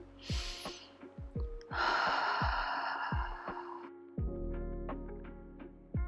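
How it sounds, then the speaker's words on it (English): A single breathy medium-volume huff, a breathing exercise to clear lower-airway secretions, is pushed out through an open mouth at moderate force, heard up close over a steady, repeated low thumping in the background. "This is a medium volume huff meant for secretions in the lower airways."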